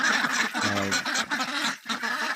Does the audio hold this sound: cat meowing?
no